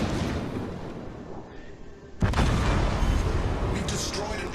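Torpedoes striking a battleship in World of Warships, a sudden heavy blast cutting through the rumbling engine noise and sustaining a loud roaring impact, with a voice talking over it.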